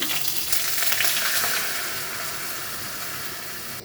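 Spice paste for a rohu fish curry fries in a pan while being stirred. A loud, close, continuous sizzle hisses and eases off slightly toward the end, with faint stirring underneath and no speech.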